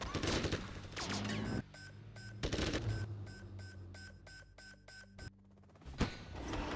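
Chinese Gatling cannons fire in rapid rattling bursts in the C&C Generals Zero Hour video game, a fast rhythmic staccato with a few heavier blasts, loud and close with almost no talking.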